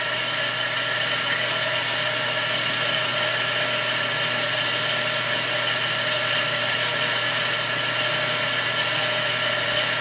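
An FMB Phoenix mitering band saw with a 10/14 variable tooth blade cuts through 1 by 2 inch solid steel, giving a steady, unbroken mechanical drone with a high whine, loud and constant throughout.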